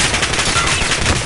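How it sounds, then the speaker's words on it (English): Rapid gunfire and explosive blasts in the video game Call of Duty: Warzone around a Pila rocket launcher strike, a loud dense burst of crackling shots filling the short moment. "I just blew him up with the fucking Pila"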